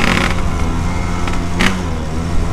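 A Yamaha RX-King motorcycle with an aftermarket exhaust runs loud and close, a continuous rough engine rumble with a couple of brief sharper bursts partway through, no talking.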